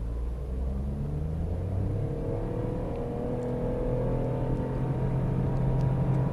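Nissan Micra automatic accelerating in sport mode, heard from inside the car as a steady, continuous engine drone and rumble with a slowly rising tone, running alone without talk.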